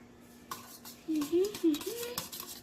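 Egg and pepper being stirred in a bowl for a goat milk omelette, with light utensil clinks against the dish and a voice speaking briefly over the stirring.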